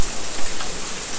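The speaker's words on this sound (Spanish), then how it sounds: "¡Está granizando!" Hail pelts down onto buckets in a summer storm over a garden in Santiago, Chile, a dense, loud crackling patter of many impacts with no break.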